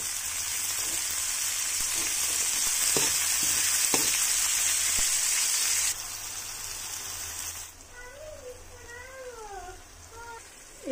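Tomato pieces frying in a pan for mutton curry, a loud continuous hiss and sizzle with a few stirring knocks that eases to a quieter bubbling simmer near the end.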